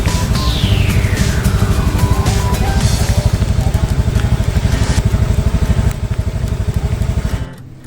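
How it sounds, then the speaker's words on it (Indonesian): A Honda Beat scooter engine strains uphill on a slippery, muddy mountain track in drizzle, a loud, steady close-up drone with rapid pulsing throb and crackle throughout, cutting off near the end. "Motor harus dipaksa naik."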